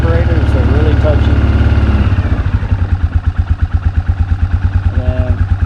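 A 2002 Arctic Cat 500cc carbureted ATV engine idling close up, settling into an even, rapid chugging pulse with a faint clatter, loud throughout.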